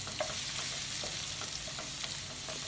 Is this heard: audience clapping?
no